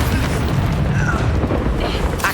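In the video game Hogwarts Legacy, an Incendio fire spell lets out a loud, dense, roaring blast that fills the short moment, with a brief flare near the end.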